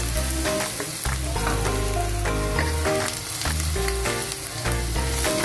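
Garlic and onion sautéing in a pan for a Filipino pork, tofu and cauliflower dish, sizzling loudly and steadily up close with occasional stirring clinks.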